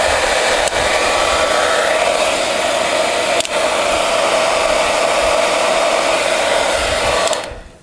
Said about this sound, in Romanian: am să folosesc un uscător de păr să încălzesc folia